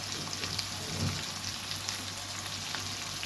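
Chicken karahi masala with dry coriander, crushed cumin and salt fries in a pan, giving a soft, continuous sizzle heard close and fairly quiet for a few seconds.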